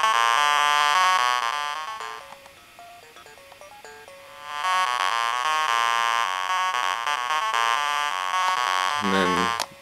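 A Korg Volca Bass synthesizer triggered over MIDI plays a sequence of buzzy, bright tonal notes, sustained and stepping in pitch, loud and alone, ending with a short descending sweep.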